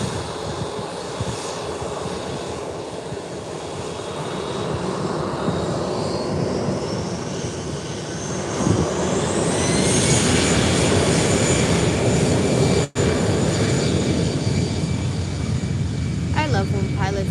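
Volotea airliner passing at Málaga Airport on a gusty day, jet engine roar growing louder with a rising whine as it nears, peaking and holding close, with a voice talking over it.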